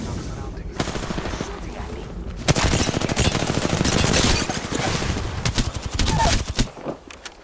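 Rapid automatic gunfire crackles in a squad-based video game battle, with bursts of dense, close shots building into a long sustained volley, while players talk over it.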